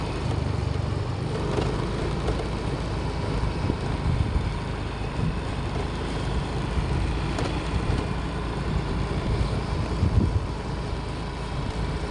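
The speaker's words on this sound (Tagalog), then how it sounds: "yung hangin sobrang lakas po talaga" Strong wind roars steadily and buffets the microphone without letup at a seaside dike by fishponds in Malabon, a dense rushing noise with no voices.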